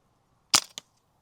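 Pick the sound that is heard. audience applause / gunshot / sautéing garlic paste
gunshot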